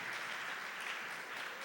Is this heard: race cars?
no